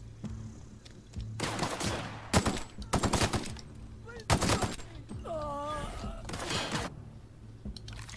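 Gunfire in the video game The Outer Worlds 2, several bursts of rapid shots and sharp impacts spread across the scene, mixed with game effects and occasional voices.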